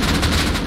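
Rapid automatic gunfire from the video game Rust rattles loud and close in a dense burst of shots, with no voices over it.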